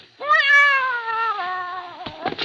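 A cat in a radio drama gives one long, clear, rising-then-falling meow lasting about two seconds, heard alone and up close with faint rustling after it.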